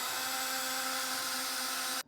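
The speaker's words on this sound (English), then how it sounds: "drill that pilot hole all the way through" A power drill bores a pilot hole through a truck bed for a B&W Turnoverball underbed gooseneck trailer hitch on a 2023 Chevrolet, giving a steady, loud whine for about two seconds before stopping abruptly.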